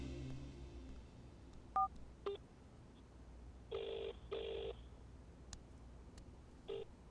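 A telephone is dialed for a call, a handful of separate touch-tone beeps spaced unevenly over several seconds, clear and nearby with no voices.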